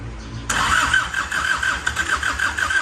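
An engine cranks and catches, then settles into a rough, steady idle with slight fluctuations in its rumble.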